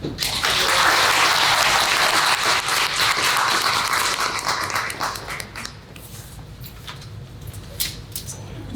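An audience applauds to welcome a speaker at a talk on substance use in the AA/NHPI community, with loud, dense clapping that fades gradually into scattered claps and room murmur.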